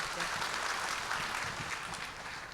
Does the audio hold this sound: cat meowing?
no